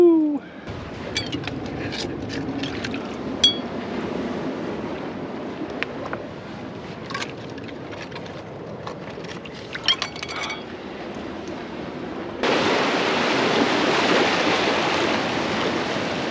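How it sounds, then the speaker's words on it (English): Rough ocean swell and surf break along a wild coastline with a steady, wind-buffeted wash of water that grows louder and denser toward the end. "Boy, it is some wild ocean today."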